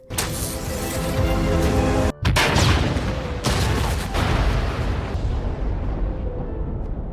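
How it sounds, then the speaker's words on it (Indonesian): A hideout blown up in a drama erupts in a loud, sustained blast with heavy rumbling debris, a sharp cut, then a second booming burst that slowly fades away. "Yaksa pun dengan terpaksa meledakkan markas mereka demi menghilangkan jejak."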